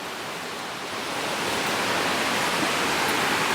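Steady rushing water from a tap during a wet shave, a broad hiss that swells slightly after the first second and then holds constant, with no voices.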